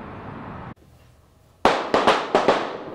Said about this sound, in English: The sound of gunfire is jarring to some.